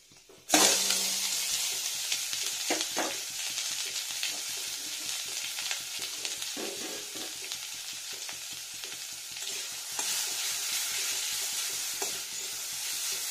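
Pumpkin greens drop into a hot pan with fried peanuts, bursting into a loud, close sizzle that keeps crackling steadily while a spatula stirs and scrapes now and then, with no voices.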